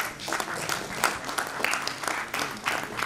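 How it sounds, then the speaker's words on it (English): Audience applause greeting a facilitator at a leadership summit, a steady wash of many hands clapping throughout, fairly close with scattered louder claps and some crowd murmur underneath. "Please welcome her with a huge round of applause."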